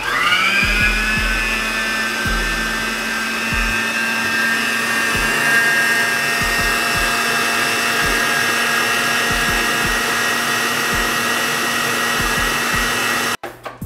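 Stand mixer run on high, beating cream cheese pound cake batter: a loud, steady motor whine with a constant pitch and faint thumps underneath, cutting off abruptly at the end.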